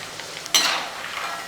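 A sudden sharp sizzle as tapioca drops into hot oil, settling into steady close crackling frying with no talking.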